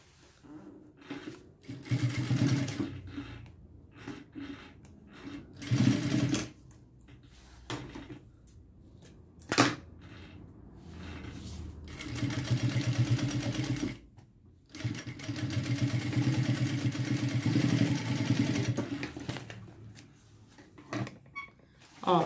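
A sewing machine stitches bias binding onto a fabric-covered box made from a milk carton, running in repeated bursts of varying length with short pauses between them, close and steady.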